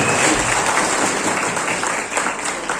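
A crowd at a Congress political rally in Malampuzha, Kerala breaks into dense, steady applause that fills the whole stretch, loud and close with no break.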